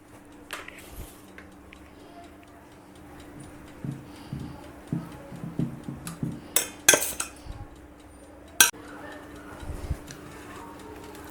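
Flour is folded into chocolate banana cake batter with a utensil in a bowl: soft intermittent scraping with light clinks and taps, a few sharper knocks near the end, close and unaccompanied by talk.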